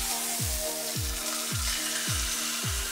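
A ribeye steak sizzles in a cast iron pan as a steady, bright frying hiss, with a regular thumping beat running underneath. No one speaks.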